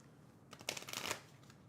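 A deck of playing cards with aces is riffle-shuffled once, a short, soft crisp burst of flicking card edges lasting about half a second in a quiet room.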